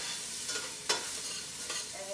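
Food sizzles in a pot over medium-high heat while being stirred for a spinach and feta pie filling, a steady close frying hiss with a few sharp scraping strokes.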